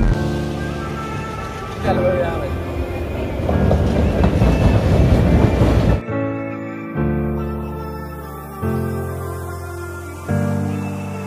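A passenger train stands at a station platform during a crowded fair trip, its rumble and rolling wheel noise heavy at first, then giving way to a series of loud sustained horn-like tones, with people talking nearby.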